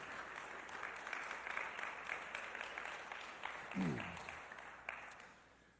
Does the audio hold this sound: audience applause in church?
yes